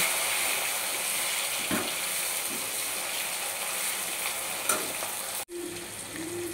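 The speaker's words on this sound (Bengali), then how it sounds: "এবার আমি কিছু পরিমাণ টমেটো কুচি দিয়ে দেব। দিয়ে ভালোভাবে কষিয়ে নেব।" Chopped tomato sautés with spices for a thin country-chicken and potato curry, giving a continuous hiss and sizzle broken by a few stirring scrapes and one abrupt knock near the end, with no talk.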